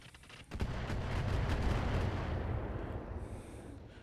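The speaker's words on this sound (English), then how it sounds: "fair number of missiles it sounded like then, but only got hit by 3" Incoming missile fire in the RogueTech mech combat game: a dense, rumbling barrage of blasts and impacts starting abruptly and rolling on continuously, loud and heavy, with no talking.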